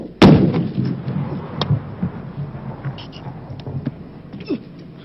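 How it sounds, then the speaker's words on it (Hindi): Real weapons fire blank rounds on a war film set: one loud, sharp bang followed by scattered smaller cracks and thumps, with voices audible in the background. "रियल वेपन्स तो यूज हुए, लेकिन फायरिंग के लिए यूज की गई थी ब्लैंक बुलेट्स, जो कि साउंड और रिकॉइल बिल्कुल असली जैसी लगती है"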